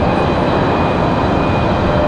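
Steady, loud broadband roar of an airliner touching down at Raleigh-Durham International Airport, a continuous rumbling engine wash with a faint high whine, unbroken for the whole stretch.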